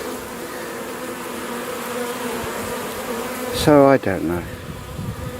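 Honeybees buzz around a caged queen inside a box, a steady close hum with a brief loud buzzing flare near the end, under a short stretch of talk.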